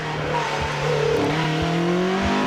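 A 2-litre Clubman-spec Sport Sleeper hillclimb race car built by Paul Gibson drives through the Carousel bend at Gurston Down, its engine rising and dropping with gear changes and sharp bursts close by.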